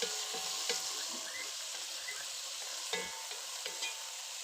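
Tomatoes fry in a pan for mash sorpa, giving a steady, close sizzle with occasional sharp pops and stirring clicks and no talking.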